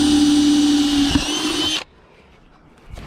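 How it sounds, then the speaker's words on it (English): A power drill bores a hole through a beach-combed plastic float, a loud steady whine for nearly two seconds before cutting off abruptly, followed by quiet handling sounds. "Once the hole's drilled"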